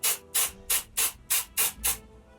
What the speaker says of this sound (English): spray in some like back comb spray, even hairspray